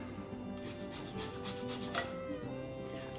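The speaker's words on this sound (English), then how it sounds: "I'm gonna get the zest of this lemon, and I love this zester. This is, I believe, an OXO zester." A lemon being zested on an OXO zester gives a soft, continuous scraping rub, close and fairly quiet, with light rasping strokes and no talking.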